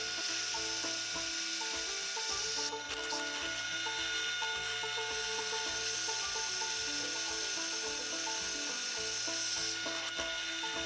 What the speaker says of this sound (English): we are, of course, drilling the holes in the tang for the pins, and I'm using 3/16 drill bit